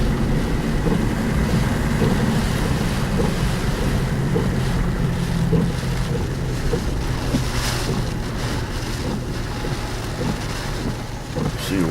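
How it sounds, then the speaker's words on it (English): Heavy rain pouring down in sheets during Hurricane Harvey, a loud, steady, dense roar mixed with gusting wind buffeting the microphone, continuous for the whole stretch with no talking. "the rain's just coming down in sheets"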